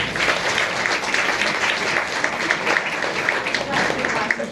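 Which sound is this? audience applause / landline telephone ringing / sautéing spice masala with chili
audience applause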